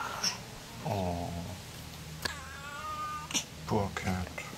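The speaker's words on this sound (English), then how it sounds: "Poor cat." A cat in a straw storage room gives a few meows, heard between people talking softly, with a fairly close, moderate-level voice.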